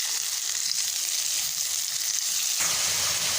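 Capsicum and mixed vegetables fry in a pan for vermicelli, giving a steady, close sizzle throughout that swells a little louder near the end, with no voices.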